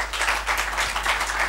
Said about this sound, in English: Please, big round of applause for him.